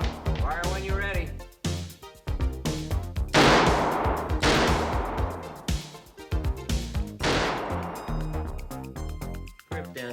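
Gunshots at a shooting range crack out in loud, uneven bursts and single shots, mixed with background music and people talking.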